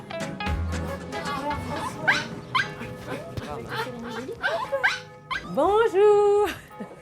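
A small dog named Snoopy, waiting for a full grooming at a mobile grooming van, lets out a string of sharp yips and barks, then drawn-out whimpering whines, close and loud.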